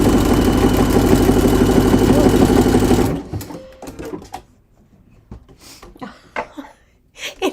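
A sewing machine stitches fabric in a loud, continuous run for about three seconds, then stops, leaving scattered clicks and handling noises; a person talks briefly afterward.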